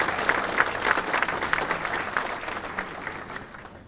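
Applause for board members at a university hall of distinction ceremony, a steady crowd clapping that fades gradually over a few seconds, with no talk.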